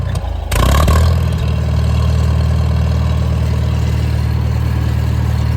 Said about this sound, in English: if you get really aggressive with the throttle, you get this